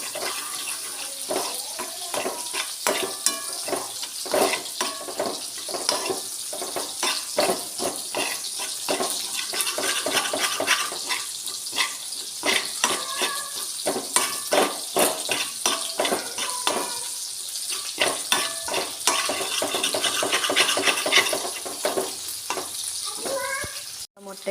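Drumstick leaf thoran with egg stirred in a pan, a continuous close sizzle broken by frequent spatula scrapes and clicks against the pan, with no voices.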